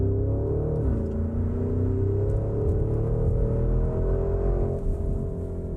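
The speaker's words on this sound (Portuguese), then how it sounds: "Vou colocar aqui no modo Sport Plus e fazer uma aceleração" Porsche Cayenne Turbo GT in Sport Plus mode accelerating progressively, a loud, steady engine roar heard from inside the cabin, with rising harmonic tones as revs climb and one brief dip near the middle.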